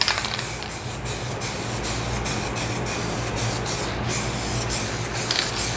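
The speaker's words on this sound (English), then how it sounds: "so I'm just gonna spray the whole thing." Steady, continuous aerosol spraying hisses close by for several seconds, a dense rushing spray with brief pauses and a low background hum.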